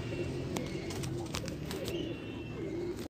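Sialkoti high-flyer pigeons cooing softly and steadily among a loft of birds, with scattered wing flaps and clicks over a constant low background hum.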